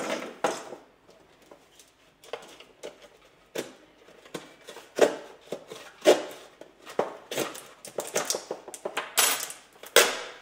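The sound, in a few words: cutting open GoPro packaging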